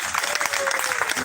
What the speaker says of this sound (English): Give him a bigger round of applause, people.